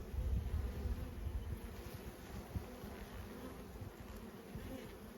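Honey bees buzz steadily around an opened hive, a soft continuous drone of many insects close by with faint wind noise and no speech.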